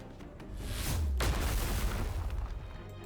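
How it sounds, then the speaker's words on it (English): An enormous explosion in the video game Goddess of Victory: Nikke bursts out with a deep booming blast that swells and then rumbles on, with debris-like crackle trailing off. "there is an enormous explosion."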